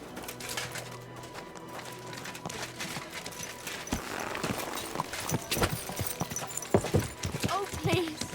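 Horse hooves clip-clopping in the video game Kingdom Come Deliverance II, a steady rhythmic run of close hoofbeats with background ambience and occasional bird calls, with voices talking over them.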